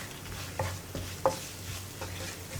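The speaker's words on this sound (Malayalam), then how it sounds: "ഇനി എല്ലാ പൊടികളും ഒന്ന് കുക്കായി വരുന്നത് വരെ നമ്മളൊന്ന് ഇളക്കി കൊടുക്കുക" Spice powders for a taro root masala fry cook in a pan while being stirred, with soft intermittent scrapes and a few sharper spoon knocks over a quiet, faint sizzle.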